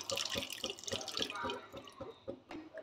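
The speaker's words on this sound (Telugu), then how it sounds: "ఇందులో కొద్దిగా నీళ్ళు ఫ్రెండ్స్." Water splashes into a pan of Manchurian sauce seasoned with oregano and fenugreek, a run of short, close splashing and dripping sounds.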